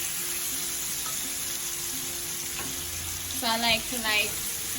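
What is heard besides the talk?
chicken pieces frying in hot oil for curry chicken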